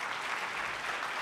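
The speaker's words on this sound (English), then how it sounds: "a big round of applause for all five of our panelists" Steady applause from a conference audience fills the whole stretch, a dense, even patter of many hands clapping for panelists at a gastronomy tourism forum, with no voices standing out.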